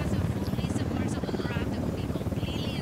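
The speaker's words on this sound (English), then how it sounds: "Hit the deck when there's a Unidad chopper around." A Unidad helicopter in Ghost Recon Wildlands beats with a rapid, continuous rotor chop, fairly close and steady across the short stretch, with no speech over it.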